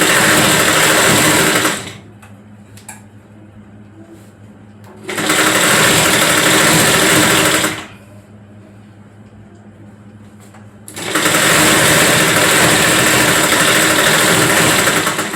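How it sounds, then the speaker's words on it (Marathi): A sewing machine runs in three long, steady stitching bursts with short quiet pauses between them while a tuxedo-style blouse is sewn, the motor whirring loud and close. "अशा प्रकारे शिलाई मारून आपण घ्यायची."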